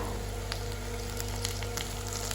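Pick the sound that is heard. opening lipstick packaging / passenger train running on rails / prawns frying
prawns frying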